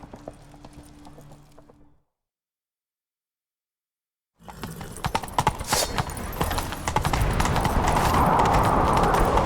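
Horses gallop in The Witcher 3 on Skellige, rapid rhythmic hoofbeats starting after a brief silence and building loud and close, with wind and movement noise rising behind them.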